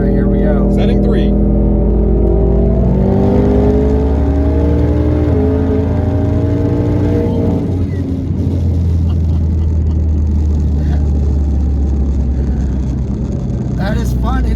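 Ford Mustang GT accelerating hard through its gears, the engine note climbing in rising harmonic sweeps with gear changes, loud and close from inside the car, then settling into a steadier drone while people talk over it.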